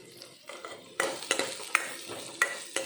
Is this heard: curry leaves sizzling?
yes